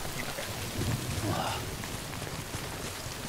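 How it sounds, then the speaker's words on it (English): Steady rain in the Death Stranding game, a dense even hiss of falling drops with a faint low rumble swelling briefly, continuous from start to end. "I think I have to get out of the rain."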